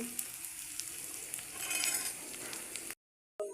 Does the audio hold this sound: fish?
yes